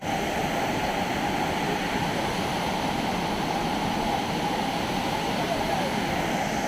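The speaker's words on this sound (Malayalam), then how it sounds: "ഏറ്റവും മനോഹരമായ വെള്ളച്ചാട്ടത്തിൻ്റെ ഫ്രണ്ടിലാണ് ഞാൻ നിൽക്കുന്നത്" Dudhsagar waterfall in heavy rain gives off a loud, constant broadband roar of falling water, unbroken and steady throughout with no clear voices.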